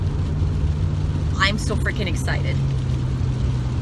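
A car driving along a road toward Washington, heard as a steady low interior engine and road rumble under close, excited talking.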